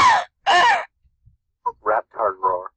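A person imitates a pterodactyl with a few harsh, screechy cawing cries in short bursts, close up.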